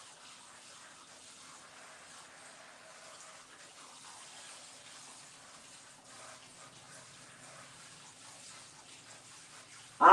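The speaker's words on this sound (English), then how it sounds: "I'm rinsing these eggs off." Eggs rinsed under a running tap: faint, steady hiss of flowing water throughout, with a brief louder splash at the very end.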